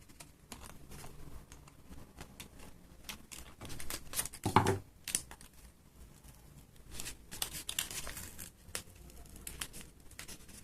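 Scissors snip tape away from a paper face mask, making quiet close-up clicks, crinkles and small snaps, with one sharper burst midway.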